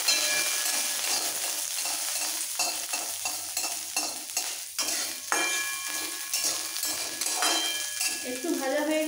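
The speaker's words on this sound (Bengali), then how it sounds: "এবার রসুন আদা লঙ্কাটা একটু ভেজে নিতে হবে।" Garlic cloves, sliced ginger and green chillies fry in a pan, giving a steady close sizzle with repeated scraping stirs and small clinks of utensil on metal, no talking over it.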